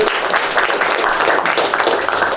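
A live audience breaks into steady, loud applause for Red of Red and the Revelers on a late-night show stage. The dense clapping fills the whole stretch evenly, with a few shouts mixed in.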